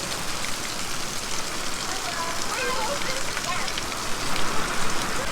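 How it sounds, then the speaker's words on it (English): Rain falls steadily outdoors as a dense, even hiss of drops that fills the whole stretch, with faint voices mixed in beneath it. "We got quite a bit of rain, nothing too crazy."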